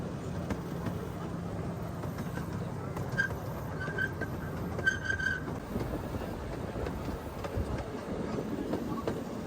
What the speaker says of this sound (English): The Nature Boy Scenic Railway is intended as a scenic ride and not as an animal display.